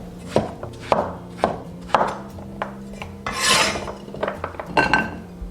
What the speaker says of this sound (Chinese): 削皮去瓤后切成片